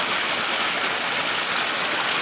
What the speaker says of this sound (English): Shows the spray of wash water going down.